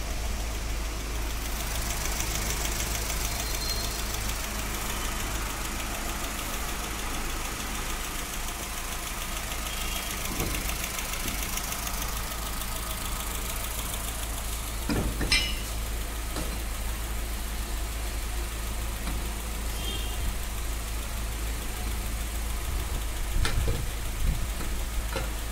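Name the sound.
Chevrolet car engine running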